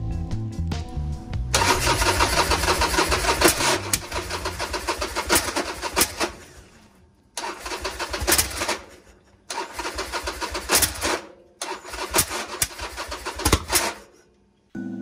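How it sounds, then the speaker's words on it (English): Repeated start attempts on a turbocharged Harley-Davidson engine with newly built fuel injection, loud close cranking that catches into rough, sputtering running, cut by abrupt silences and sharp pops backfiring through the intake. "the ignition timing is probably off, which is why it's backfiring and spitting back through the intake"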